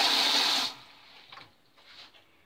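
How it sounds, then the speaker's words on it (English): Cold tap water runs hard into a container in a home kitchen, a loud rushing gush that cuts off abruptly, followed by a few faint small clunks and drips. "get some cold water"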